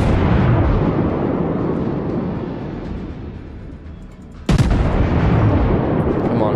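Warship main guns fire a broadside in the World of Warships naval battle game, a deep roaring rumble that fades, then a sudden loud blast and renewed heavy roar, with no voice over it.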